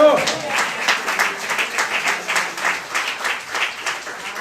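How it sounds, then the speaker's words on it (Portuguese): A church congregation applauds, a sustained wash of many hands clapping in loose, pulsing waves that fill the room, with voices faintly underneath. "Dá uma salva de palmas ao Senhor"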